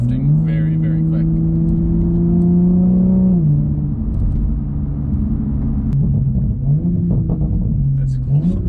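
A car engine pulls hard through quick gear shifts, its steady rising drone dropping briefly at each shift before climbing again, close and loud, with voices underneath.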